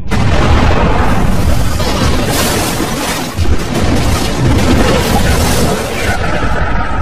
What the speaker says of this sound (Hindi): अंत में परमाणु विस्फोट होता है।